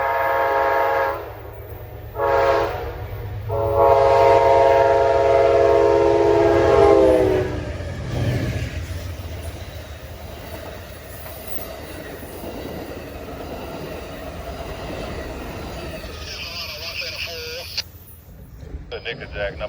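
A Norfolk Southern freight train led by heritage locomotive number 130 speeds north on the main line, its loud horn blowing several blasts before the rumbling passage of the train continues, with a voice talking over it.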